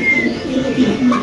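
Large pigeons at a pigeon farm, soft low coos repeating through a brief close moment.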